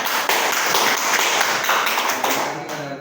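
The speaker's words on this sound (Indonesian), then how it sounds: "terima kasih Pak Musdalifah, berikan tepuk tangan." A classroom of students claps briefly in appreciation, a short burst of scattered hand claps at moderate level lasting a few seconds, with a little talk around it.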